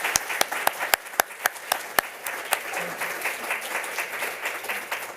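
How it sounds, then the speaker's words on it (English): Applause for winning artists at a Banned Books Week celebration opens with a few sharp, spaced individual claps, then swells into a softer, fuller round of clapping from the crowd. "If we could give all of our winning artists one more big round of applause,"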